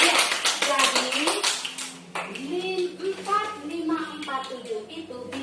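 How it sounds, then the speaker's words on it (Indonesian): A class of students claps hands in a busy burst of rapid claps at the start, then the clapping thins out as a voice talks over the rest. "Tepuk tangan dulu."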